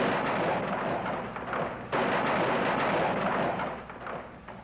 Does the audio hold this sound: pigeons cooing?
no